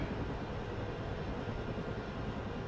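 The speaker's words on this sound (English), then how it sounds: "You guys are seeing us push in with helicopters" Helicopters in the WARNO combat game, a steady, dense rotor and engine drone with no distinct beats, continuous and moderately quiet.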